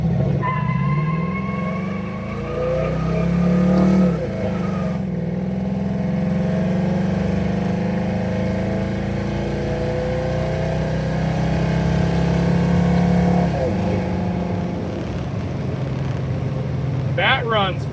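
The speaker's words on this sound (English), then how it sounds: "That was a brake stand." A car engine, a Mustang doing a brake stand, gives a loud, sustained roar with shifting pitch as it revs hard against resistance, rising and easing several times over a low rumble.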